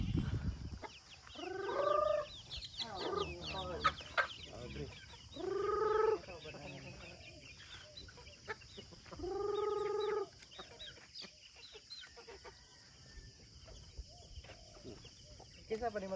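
Chickens cluck in loud repeated bursts on a rural province farm, three or four distinct calls spaced a few seconds apart, with quieter rustling and faint farmyard noise between them.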